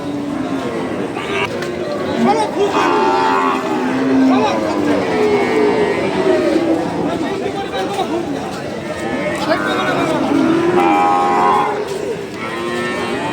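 Cattle, including Sahiwal bulls, lowing at the Seven Mile cattle market. Several loud, drawn-out moos rise over a busy crowd of chattering voices close by.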